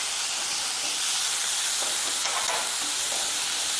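Chopped fenugreek leaves are mixed into a dish cooking in a pan, under a steady, dense sizzle and hiss with soft scraping strokes, no voices.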